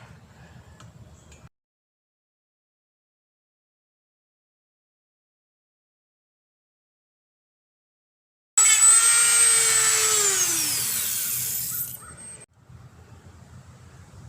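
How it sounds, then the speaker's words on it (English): An angle grinder works on the head of a motorcycle chain pin, a loud, close, high whine that winds down after a few seconds, with quieter handling noise before and after. "we're going to try to grind the head off of one of these pins"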